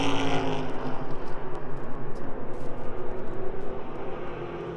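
Race cars circulate at Pennsylvania Motor Speedway, their engines a loud, pulsing roar that rises and falls in rapid waves, easing slightly toward the end.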